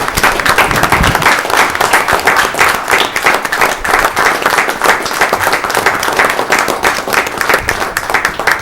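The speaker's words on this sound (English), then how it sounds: "I'd like to give another round of applause to our police officers and firefighters and first responders that we have." Audience at a board of directors meeting applauding police officers, firefighters and first responders, a dense, sustained round of clapping from many hands, loud and even from start to finish.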